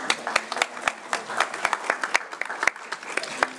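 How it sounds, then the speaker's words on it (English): Scattered, distinct hand claps from an audience at an Africa Day celebration, individual sharp claps ringing out in an uneven rhythm rather than a dense roar. "Please give them a round of applause."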